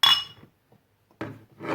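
A glass of water with a ginger and honey mixture being stirred, giving a bright clink of spoon against glass up close, then a short lull before two more bursts of clinking and scraping.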